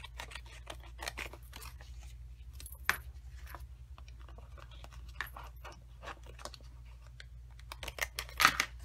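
Scissors snip a paper strip for a handmade graduation card, giving a quiet series of short, crisp cuts at irregular intervals close by, with a sharper snip near the end.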